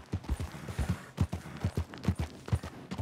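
Horse hooves clip-clop in Red Dead Redemption 2, a quick, rhythmic run of close, distinct hoofbeats heard alone without talk.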